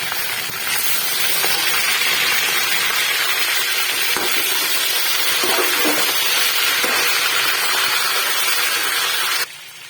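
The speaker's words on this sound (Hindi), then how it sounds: "प्याज के साथ ही इसको फ्राई करेंगे" Chicken pieces frying with onions in a pan give a loud, steady sizzle and hiss that runs nearly throughout, broken by a few soft stirring clatters, then drops away abruptly near the end.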